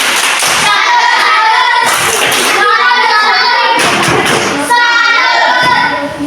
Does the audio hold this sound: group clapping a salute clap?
yes